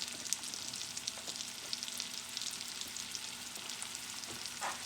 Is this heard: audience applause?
no